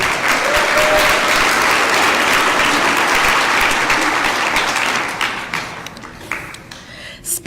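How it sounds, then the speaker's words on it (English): A large audience at a graduation ceremony applauds in a loud, sustained wash of clapping that holds steady for about five seconds, then thins out into scattered claps and fades. "Please give a big round of applause in recognizing these individuals."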